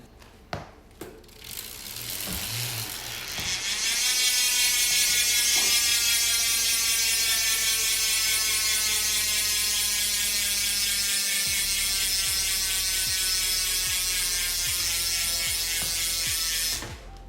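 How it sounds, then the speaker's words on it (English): A rapid, steady buzzing ratchet clicks from a Chris King rear hub freewheel on a gravel bike, loud and close, running continuously after a few brief mechanical knocks. "Now you can't say Chris King hub without getting a sound check"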